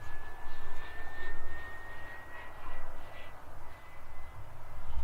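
A tiny Xicoy X45 jet turbine on an RC glider in flight whines with a thin steady tone over a pulsing, wind-like roar that swells and fades as the plane passes at a distance.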